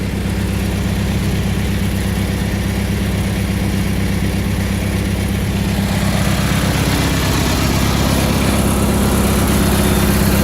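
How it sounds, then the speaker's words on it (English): A Cub Cadet 582 lawn tractor engine runs steadily up close, a continuous loud throbbing drone that holds throughout with no talking. "this 582 is a good machine. Goes right into gear too."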